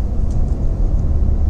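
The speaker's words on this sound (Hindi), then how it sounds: "थोड़ा सा एक्सीलेटर करके देख लेते हैं गाड़ी को, सही चल रही है गाड़ी" A 2018 Hyundai i20 Active SX petrol hatchback driving under light acceleration, heard as a low, steady engine and road rumble from inside the cabin, fairly loud, with no talk.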